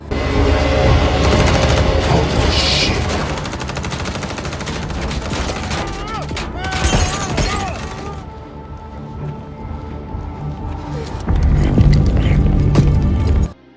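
A film shootout with cartel gunmen opening fire on a man taking cover behind his vehicle: loud, dense bursts of rapid gunfire and single shots, with crashes and mechanical clatter, continuing throughout.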